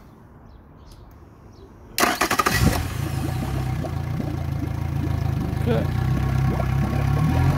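Engine powered by a hooked-up battery cranks briefly, then catches and settles into a loud, steady running drone with a regular rhythmic beat, close by, with a brief spoken word near the start.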